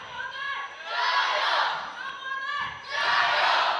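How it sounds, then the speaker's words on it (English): A local crowd cheers at a wushu sanda championship bout, in two loud swelling waves of rhythmic chanting that fill a large arena with a short dip between them. "And you hear the local crowd starting cheers for Lee."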